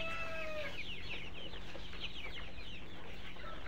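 Layer hens on a farm in winter, a dense flock clucking and chirping together at a steady level, continuous chatter with several higher calls rising out of the mass, no talking.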